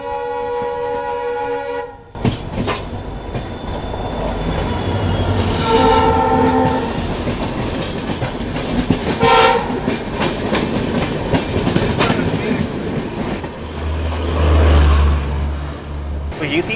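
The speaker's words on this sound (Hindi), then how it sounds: "कोई तो ट्रेन आ रही है।" An Amritsar Ajmer Express train passes close by, heard from aboard a Jaipur–Delhi double decker express: steady loud rumble and rattling wagons with horn blasts and squealing wheels across the pass.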